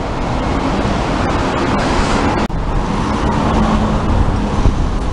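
Steady street traffic on a road in Meguro, Tokyo, where Tokyu buses run frequently: a continuous broadband roar of passing engines and tyres, fairly close and loud, with one brief sharp click partway through and no talk.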